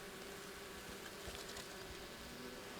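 A faint, steady buzzing of many honeybees around a hive fills the air, a soft continuous drone with slight swells, no voices.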